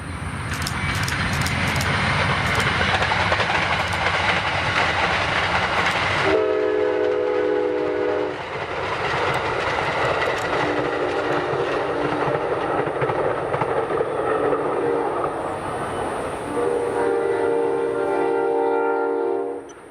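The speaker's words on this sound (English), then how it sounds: "we see Amtrak 92, the northbound Silver Star, pass over" Amtrak 92, the northbound Silver Star passenger train, rumbles past close by with steady wheel and engine roar. The horn sounds in long blasts partway through, and the noise stays loud throughout.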